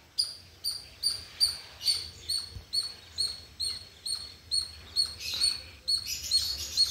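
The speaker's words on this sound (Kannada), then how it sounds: "ಸೌಂಡ್ ಮಾಡ್ತಾನೆ ಇರ್ತವೆ ಇಲ್ಲಿ ಪಕ್ಷಿಗಳು." Birds chirp from the trees in a steady, evenly spaced series of short high tweets, about two per second, moderately close and with no talking.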